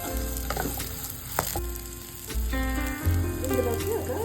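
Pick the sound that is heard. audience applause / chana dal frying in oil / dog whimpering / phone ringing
chana dal frying in oil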